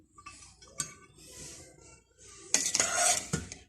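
Cooked chicken fried rice is scooped from a pot onto a dish, with a few light metal clinks of a spoon against cookware and a louder scraping burst toward the end.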